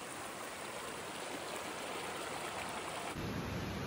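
Water running down a hiking trail path, a steady, close broadband rush of flowing water that continues without a break and grows slightly heavier near the end.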